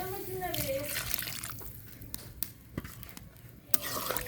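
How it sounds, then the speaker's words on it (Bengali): Water pours into a chicken and eggplant curry as it is stirred in a pan, a close splashing, bubbling wash with a few sharp utensil knocks against the metal. "এখন আমি অল্প করে একটু পানি দিয়ে দেব।"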